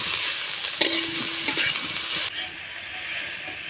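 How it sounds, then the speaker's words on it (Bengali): Grated potato being stirred and lightly fried in a pan, a steady broadband sizzle with a few scraping stirs of the spoon, close and continuous with no talking. "আলুটাকে আমি হালকা ভেজে নেব"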